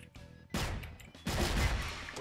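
Gunfire in the online shooter CrossFire: two loud, close bursts of shots, the second longer and more sustained, with quieter game background between them.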